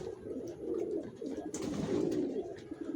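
Racing pigeons coo steadily in a loft, a soft continuous murmur of several birds layered together at close range, with no talk.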